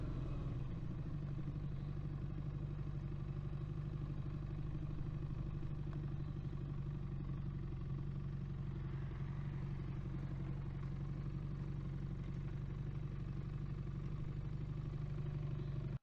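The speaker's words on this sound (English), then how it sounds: "I just thought I'd take a short ride on the Benelli" A Benelli motorcycle on a short ride gives a steady, low engine drone that continues evenly the whole time, fairly quiet and unbroken, with no talking.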